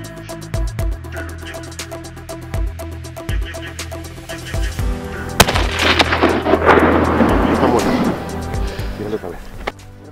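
A rifle shot fired at a chamois during a snowy hunt in the Picos de Europa, a sharp loud crack followed by a lingering echo, with people talking around it.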